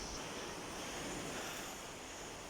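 Sea waves wash in a steady, broadband roar beside a seaside temple in Penang, continuous and fairly quiet with faint wind noise.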